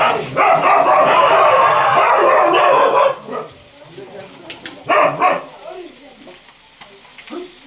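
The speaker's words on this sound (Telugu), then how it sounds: "కొత్త కుక్కలు వస్తే ఇట్లా ఉంటుంది" A couple of dogs bark in a loud, dense burst for about three seconds, followed by a shorter second flurry, with people talking in between and around them.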